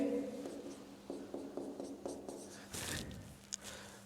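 Chalk or marker writing a formula on a classroom board, a series of short scratchy strokes in quick rhythm, fairly faint, with a brief sharper tap near the end.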